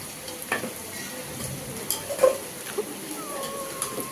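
A chicken bone curry with ginger and garlic is stirred in a pot, giving a soft, steady sizzle with a few light scraping clinks from the spoon, quiet and close.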